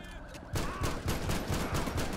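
Sustained automatic gunfire in the LSPDFR police game as an armed suspect is shot, a quiet moment giving way to a loud steady burst of rapid shots.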